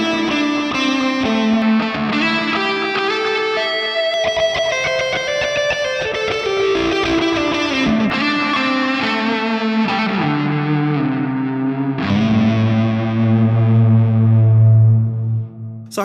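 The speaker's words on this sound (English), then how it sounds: "just switching over to the delay and reverb for a little bit more of a lead tone" An electric guitar plays a lead line through an Ampero II Stomp into a real cab, with a distorted tone carrying delay repeats and reverb tails; the notes ring out clearly and close, with no voices.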